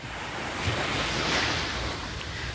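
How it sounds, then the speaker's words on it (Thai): Gentle morning sea waves wash steadily onto Na Jomtien beach in Sattahip, a continuous soft surf roar with some wind rumble on the microphone and no voices. "ช่วงบรรยากาศเช้าๆนะครับที่ชายหาดหน้าจอมเทียนนะครับ"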